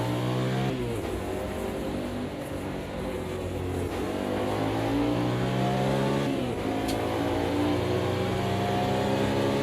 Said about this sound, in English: Interesting V8 noise.